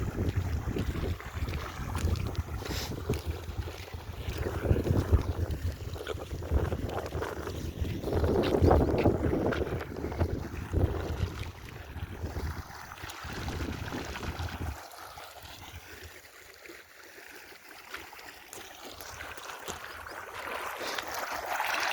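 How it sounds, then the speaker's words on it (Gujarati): Water gushing from a broken pipe by a tank onto a farm field, a steady broadband rush with wind buffeting the microphone, loud through most of the clip and easing a little toward the end. "તો આપણે પાણી ચાલુ કર્યું. અને ખોરીને કમ્પ્લીટ પાણી જાય ખેતરમાં."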